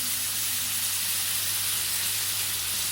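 Cajun shrimp sizzle loudly and steadily in a hot pan, a dense, close, unbroken hiss with no voices over it.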